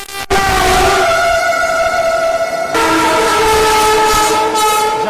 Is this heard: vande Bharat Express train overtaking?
yes